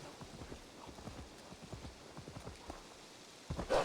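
Horse hooves clip-clop in a steady trotting rhythm in the Assassin's Creed Valhalla video game, fairly soft and even, with a louder thump near the end.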